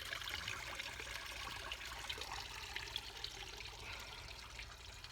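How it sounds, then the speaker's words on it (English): Water spills from a garden pond filter, a steady close splashing and trickling rush that holds even and unbroken from start to finish. "it looks like I'm going to have to clean that filter again because the water falls off again"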